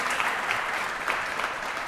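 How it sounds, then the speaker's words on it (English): Brief burst of audience applause at an AAPI event, a steady wash of clapping hands from a crowd, close and fairly loud throughout with no talking over it. "Please give them a round of applause."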